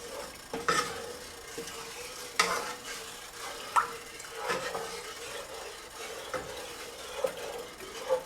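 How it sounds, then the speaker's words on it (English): Flour being stirred into milk in a pan for a broccoli cheese sauce, a soft continuous scraping swirl with faint sizzle and a few brief clinks of the spoon against the pan, quiet and close. "So let's just stir this in, get the flour"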